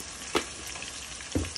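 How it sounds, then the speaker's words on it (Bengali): Ginger and garlic fry in a pan with a soft continuous sizzle, and two distinct stirring scrapes break through it, close and moderately loud. "দেন আমরা এটাতে নাড়তে থাকবো, নাহলে আবার আপনার প্রায় বান হয়ে যাবে, প্রায় জ্বলে যাবে।"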